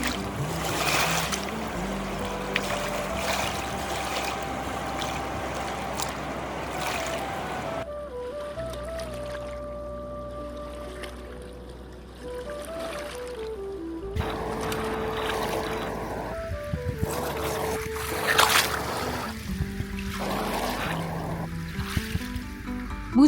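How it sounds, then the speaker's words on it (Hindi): Ganga river water at Rishikesh, a steady rushing flow with lapping and splashing against the bank, close and continuous, with some faint tonal background sounds and no talk. "माँ गंगा की लहरों की आवाज इस वीडियो की असली सोल है"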